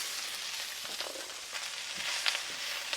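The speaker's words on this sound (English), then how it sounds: "Everyone loves corn sauteed in butter." Corn kernels sautéing in butter in a pan, a soft steady sizzle with faint crackles and light stirring, fairly quiet and close with no talking.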